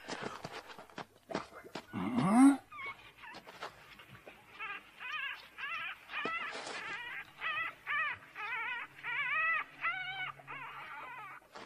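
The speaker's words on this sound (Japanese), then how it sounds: "野良犬が子供でも産んだんかな" Stray dog puppies whimper in a run of short, high, wavering cries that repeat steadily and close by, after a louder yelp near the start.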